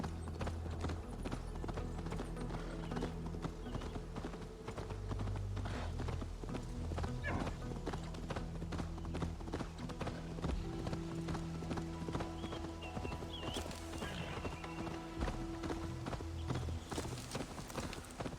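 Rhythmic hoofbeats clip-clop steadily throughout, a horse in the video game Assassin's Creed Valhalla moving at an even pace over a low background hum.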